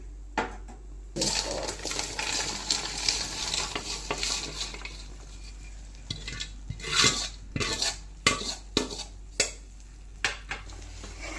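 Chicken pickle being mixed in a pan with a spoon: steady scraping and stirring with a soft sizzle underneath, then sharper clinks and knocks of the spoon against the pan toward the end, close and moderately loud.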